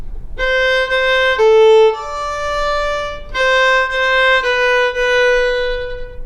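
A violin plays a phrase of the carol O Christmas Tree, a series of clear sustained bowed notes with a short break midway, heard alone without talk.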